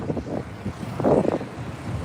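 Wind blows outdoors in a steady, gusty rush across the microphone, swelling to a stronger buffet around the middle before settling back to a constant low rumble, with no talking.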